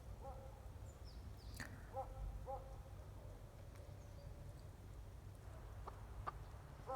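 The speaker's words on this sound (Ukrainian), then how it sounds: "гуляють курочки усі, ось, як ви бачите, по черзі" Faint, scattered clucking from chickens at a distance, a few short calls spread over quiet outdoor background.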